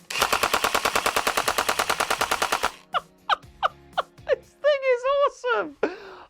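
A chain-fed airsoft machine gun fires a long, rapid automatic burst at close range, then stops; several single heavy exhales or gasps follow in the quiet.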